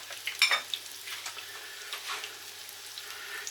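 Corned beef hash cakes, Welsh rissoles, frying in a pan, giving a soft, steady sizzle with a brief burst of crackling near the start and no talking.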